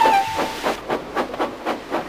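A steam engine chuffs and hisses in regular bursts after a brief whistle-like tone, the rhythmic puffs of steam fairly close and steady.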